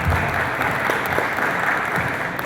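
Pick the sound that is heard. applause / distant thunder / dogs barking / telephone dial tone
applause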